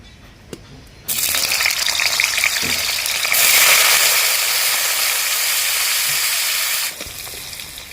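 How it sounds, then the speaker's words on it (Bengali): Paneer pieces hit hot oil and set off a loud, steady sizzle that swells brighter midway and then cuts off abruptly, following a quiet kitchen lead-in. "তেলটা আমার গরম হয়ে গেছে আমি পনিরগুলোকে হালকা লালভাবে ভেজে নেব"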